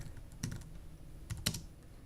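Keystrokes on a computer keyboard while typing an HTML page header, a few scattered quiet clicks with two brief bursts of quicker taps, close and fairly soft with no voices.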